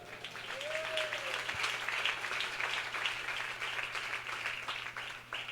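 A church congregation claps steadily at a preacher's gathering, with a faint, even patter of applause in a roomy space and a low hum underneath.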